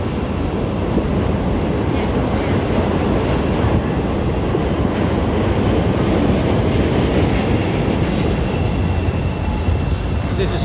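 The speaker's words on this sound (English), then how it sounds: "And then this is the elevated train. You can hear it" A Chicago elevated train rumbles by directly overhead on a downtown street, a loud, steady roar with rail clatter that fills the whole stretch without letup.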